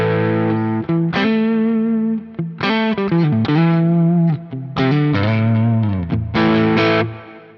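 A distorted electric guitar through two amps on a Quad Cortex, panned hard left and right, plays chords and riffs with a wide, chorused sound, loud and continuous, ending with a ringing chord that fades out.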